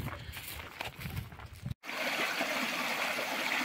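The Kodzha Dere mountain stream trickles and rushes steadily nearby, a continuous broadband wash of water that breaks off for a moment and then resumes, with footsteps and rustling mixed in early on.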